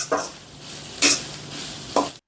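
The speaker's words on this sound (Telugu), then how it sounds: "స్టవ్ని హై ఫ్లేమ్లో పెట్టుకొని ఈ వెజిటబుల్స్ అన్నిటిని ఒక సిక్స్టీ పర్సెంట్ దాకా ఫ్రై చేసుకుందాం" Vegetables stir-fried on high flame for street-style veg noodles at home: three loud scraping stirs of a spatula in the pan over a steady sizzle, close and clear.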